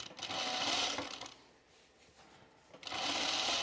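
A sewing machine runs in two steady bursts, stitching elastic onto the waistband of pajama bottoms with a pause in between where the motor slows and stops, then restarts at full speed, close and loud.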